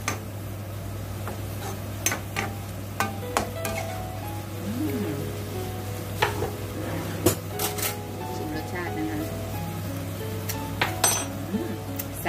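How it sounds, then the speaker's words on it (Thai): Pork belly stir-frying in a pan: a soft sizzle under repeated spatula scrapes and clinks against the metal, with a person talking throughout. "หมูสามชั้นคั่วกิ้ง"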